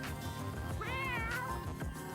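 A cartoon cat meows once with a rising-falling tone in Walkabout Mini Golf's Laser Lair course, a themed Exploding Kittens character; it sits over a steady bed of game music and ambience.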